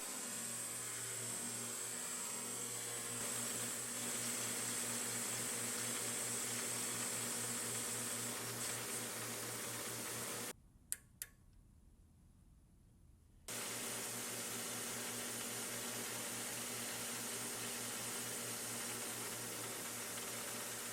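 A metal lathe turns down a shoulder on a part for a micrometer stand, giving a steady, even machining hum and hiss that stops briefly partway through, then resumes unchanged.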